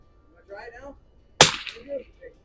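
A single sharp report from a 1903 Springfield military surplus rifle cracks at an outdoor range, somewhat distant, with brief talk just before and after the shot.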